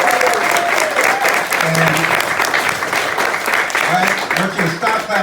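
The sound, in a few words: audience applauding at a political rally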